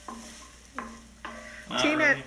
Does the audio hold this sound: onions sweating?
yes